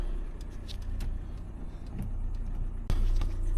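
A car engine fired up after repair by a mobile mechanic runs as a faint, steady low rumble. A single sharp thump lands near the end.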